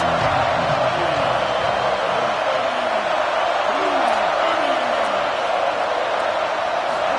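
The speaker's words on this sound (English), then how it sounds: "They challenge this crowd to bring the energy, and I'd say they're doing that." Video game college football stadium crowd roaring in a steady, loud wash, with a play-by-play commentator talking over it throughout.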